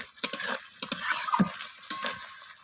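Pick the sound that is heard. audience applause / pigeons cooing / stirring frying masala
stirring frying masala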